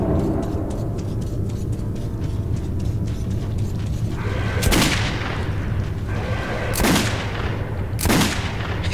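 Shotgun blasts from the first-person shooter Metro 2033: three loud, sharp booms spaced a couple of seconds apart, rising over a constant low rumbling game ambience.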